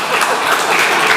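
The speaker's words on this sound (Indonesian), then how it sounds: "tepuk tangan ya" Congregation at a Sunday church service giving a short, loud round of applause, steady massed clapping throughout.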